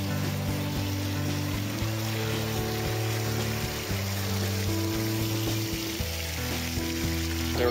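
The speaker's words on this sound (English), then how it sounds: "A specially made suction dredge, operated with a powerful gas pump, is used to suck up the sediments and organisms within a 1 meter plot" A suction dredge driven by a powerful gas pump pulls up sediment and organisms from a shallow inland bay, a loud continuous engine drone with steady tonal hum, churning water and a harsh sizzling wash.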